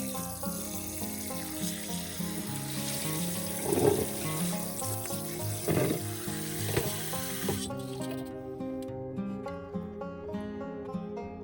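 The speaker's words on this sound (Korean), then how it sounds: "흐르는 물에 여러 번 헹궈서 핏물 제거를 해주세요." Tap water runs in a steady hiss with light splashing as beef short ribs are rinsed under it, under soft background music, then the water stops and only the music carries on.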